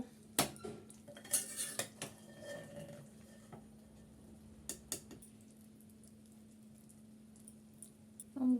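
Chicken polao being plated, with ceramic dishes and metal cutlery clinking in scattered bursts, busiest in the first few seconds, then quieter with a few isolated taps and a louder clatter at the end over a steady low hum.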